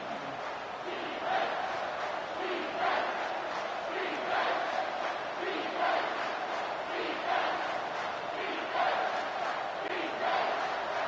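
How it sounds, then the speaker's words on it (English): Stadium crowd in a college football video game, Michigan at Auburn, roaring and chanting in rhythmic swells during a late third-down moment, a dense, distant-sounding mass of cheering that pulses every second or so. "This crowd knows they have to bring it in big moments"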